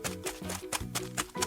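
An ostrich call sounds out as a series of short, harmonic, honking bursts, repeated several times in quick succession and heard clearly and alone.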